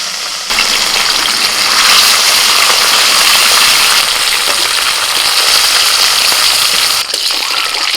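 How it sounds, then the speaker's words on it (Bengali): Fish sizzling in hot oil in a home village-style Bengali kitchen, a loud continuous hiss starting abruptly after a brief pause and roaring steadily, close by. "তেল গরম হয়ে গেছে এবার মাছ ভেজে নিচ্ছি"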